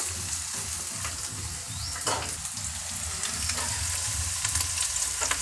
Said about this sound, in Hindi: फ्राई करूँगी और इसे फ्राई कर लूँगी।